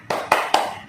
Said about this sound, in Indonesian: tepuk semangat 3 kali ya ini ya